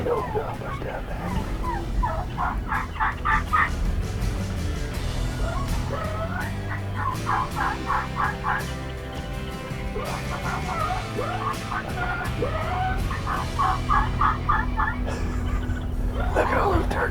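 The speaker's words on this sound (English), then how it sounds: "we're picking up some hens clucking and a few gobbles" Wild Merriam's turkeys call from the woods during a hunt, with repeated bursts of hen clucking and a few distant gobbles over steady outdoor background noise.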